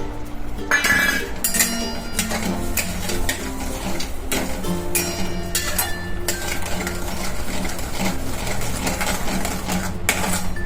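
A spoon clinks and scrapes against a pan as semolina shira cooks in ghee with milk and sugar, with steady close stirring clatter and soft sizzling throughout.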